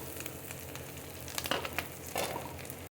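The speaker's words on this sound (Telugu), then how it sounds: "ఉల్లిపాయలు, పచ్చిమిరపకాయలు ఇలా కొంచెం దోరగా వేగిన తర్వాత" Onions and green chillies fry in a pan while dry prawns are being prepared, giving a steady close sizzle with a few brief louder crackling bursts and stirring scrapes, and no voices.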